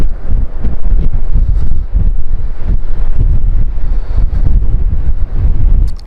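Strong wind buffeting across Yorkshire coastal cliffs near Filey, loud continuous gusty roar with heavy microphone rumble, no talk.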